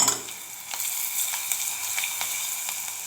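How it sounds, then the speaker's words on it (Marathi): Mustard seeds crackle and pop in hot oil, with cumin, asafoetida, curry leaves and green chillies added to the tempering. A steady close sizzle runs throughout, broken by sharp pops, and no one speaks. "तेल तापलं की त्यामध्ये 1 चमचा मोहरी छान तडतडून घ्यायची आहे"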